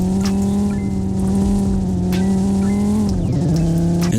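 A 1998 Dodge Viper GTS engine holds a loud, steady low rumble near at hand, with a slight pitch dip toward the end as it cruises.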